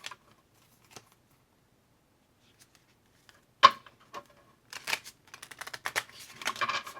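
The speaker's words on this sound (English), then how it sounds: "Let me just shuffle these cards too." Tarot cards being shuffled by hand, a few soft isolated flicks giving way to a burst of quick, crisp riffling and papery snaps toward the end, close and fairly quiet with no talking.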